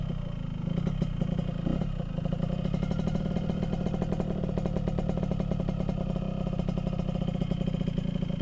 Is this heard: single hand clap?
no